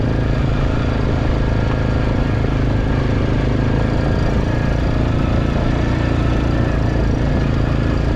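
A Suzuki King Quad 750 ATV engine drones steadily in high four-wheel drive while climbing a loose mountain trail, loud and close, holding moderate revs throughout.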